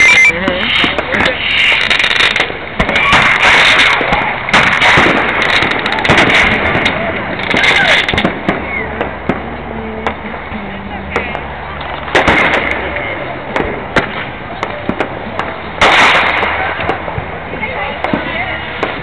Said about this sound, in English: We're actually 360, you can see fireworks all around the city.